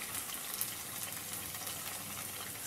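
Water splashes steadily as hands are wetted to shape kanji vada, a continuous soft rush of running water close by with no talking.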